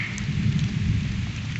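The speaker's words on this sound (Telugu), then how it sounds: "వర్షం అయితే జోరుగా కురుస్తుంది" Heavy rain pours down in a forest, a dense, steady roar of close rainfall throughout.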